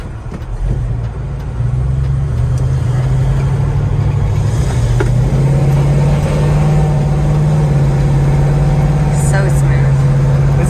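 A 1967 Chevrolet Chevelle Super Sport cruises through curves with a steady, low engine drone and road rumble inside the cabin, rising slightly in pitch partway through, with people talking over it.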